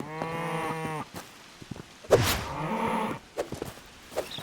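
Cows moo in the Hytale video game: a long, loud, harmonic low moo at the start, a second moo midway, and scattered thumping footsteps and clunks between calls, with no talk.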